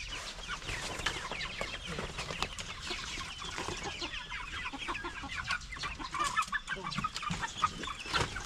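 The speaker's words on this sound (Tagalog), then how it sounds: "papakawalan ko yung mga manok natin" Large backyard chickens released onto the ground cluck and chatter in quick, overlapping bursts, moderately close and fairly soft, with no talk over them.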